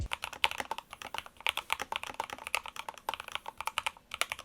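Rapid, irregular clacking keystrokes from an Everglide SK68 keyboard with a carbon fiber plate and sushi-themed keycaps, close and crisp with steady typing rhythm and no voices.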